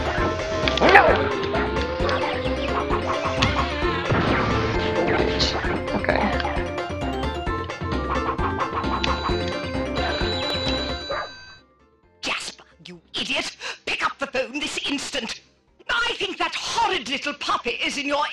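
A puppy yips and barks in the 102 Dalmatians video game, short high barks amid game music and effects, with a player talking over it.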